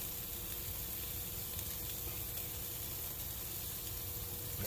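Pork steak sizzles steadily on a charcoal grill, a continuous close crackling hiss with no talk over it.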